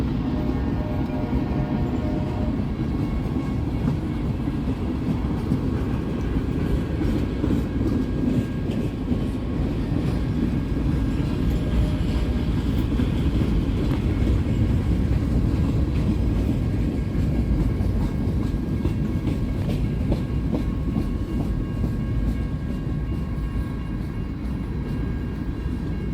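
A CSX freight train hauling boxcars, some covered in graffiti, passes on the Grand Rapids subdivision with a sustained low rumble and rhythmic wheel clatter at steady, fairly close volume throughout.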